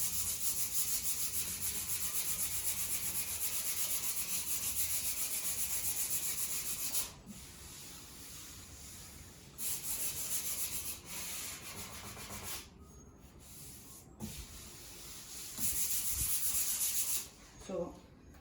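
600-grit sandpaper rubs over a poly-coated wooden furniture finish in long steady strokes, soft and continuous with a few short pauses, close up and without talk.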